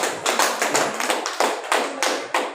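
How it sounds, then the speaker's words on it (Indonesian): Classroom applause for a student group after a presentation: several bursts of hand clapping in an uneven, rhythmic pattern, fairly close and loud, with no talking. "Ya, tepuk tangan untuk kelompok."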